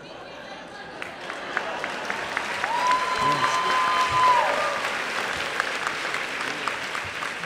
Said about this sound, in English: You gave Robert a round of applause for his.